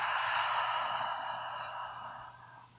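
A long, deep exhale through the nose during a yoga breathing exercise: a soft, breathy rush that is close and steady, then slowly fades over a few seconds, with no talking.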